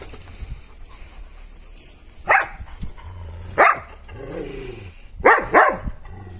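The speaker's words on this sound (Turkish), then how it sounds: "Kedi görünce arkadaşlar köpek deliriyor bu arada" A dog barks in several sharp, loud bursts, a couple close together near the end, with quieter whimpering sounds between them.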